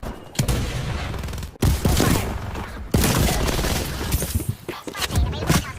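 Gunfire in the Call of Duty video game, loud bursts of rapid shots and cracks broken by brief gaps, with rattling volleys stacking up across the stretch.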